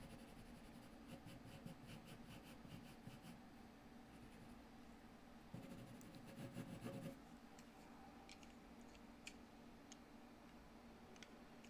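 Colored pencil drawn firmly across paper with a sharp point, a soft close scratching of repeated short strokes, quiet and steady with a denser burst of rubbing midway, no talk.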